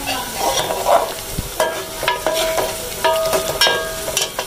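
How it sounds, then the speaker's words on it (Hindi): Onion browning with cumin seeds and whole dried red chillies in a pan for a mixed vegetable dish, giving a close, steady frying sizzle broken by several sharp stirring scrapes and clinks of a utensil against the pan. "इसमें हमने 1 अदद प्याज ब्राउन कर रहे हैं, थोड़ा सा जीरा डाला है"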